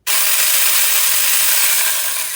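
An EDJO 4-inch handheld 21V cordless mini chainsaw is switched on for a test run, starting abruptly and holding a loud, steady, close high-pitched buzzing whir with no voices.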